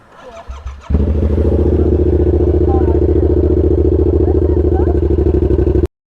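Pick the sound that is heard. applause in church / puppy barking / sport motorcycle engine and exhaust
sport motorcycle engine and exhaust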